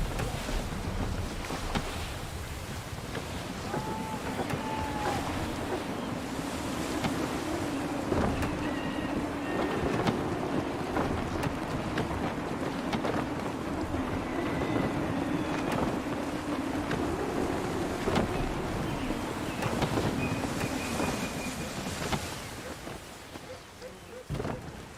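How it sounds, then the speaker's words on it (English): Steady gusty wind roars over a wooden sailing ship at sea in Assassin's Creed 3, a continuous broad rush with creaks and flaps of rigging rising and falling throughout, and brief tonal calls faintly heard now and then. "Wind looks to be shifting. Stay alert, Connor. Gusty winds can be difficult to manage."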